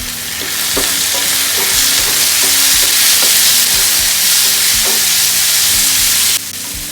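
Tomatoes fry in a hot pan for sundakkai kuzhambu, a loud steady sizzle close up with occasional stirring knocks, easing slightly near the end, and no voices.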